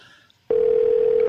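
A ringback tone on an outgoing telephone call comes in abruptly after a short quiet moment, holding as one steady, unbroken tone at even loudness until the end.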